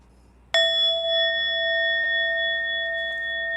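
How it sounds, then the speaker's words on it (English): A meditation bell is struck once at an interfaith peace gathering for Nagasaki Day, giving a bright, clear ring that sustains and slowly fades over several seconds in a quiet room. "So this bell is for ourselves"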